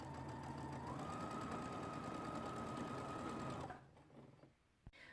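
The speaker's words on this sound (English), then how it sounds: "We're going to mark triangle to triangle again and sew a 1/4 inch on either side." A sewing machine stitches a quarter-inch seam on either side of a marked line through flying geese quilt pieces, running steadily and loud for about three and a half seconds before stopping, followed by faint handling sounds.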